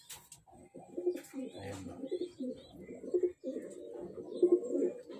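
A six-day-old racing pigeon squab makes soft, repeated low cooing and squeaky begging calls close by, with a person talking briefly.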